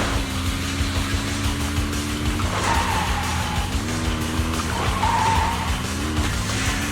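A car skids while driving in a video game: a steady engine drone under long tire squeals that rise and shift in pitch, with a continuous close, moderately loud roar.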